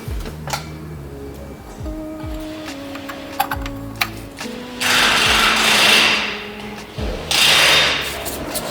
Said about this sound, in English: We use a plastic hammer so we don't damage this.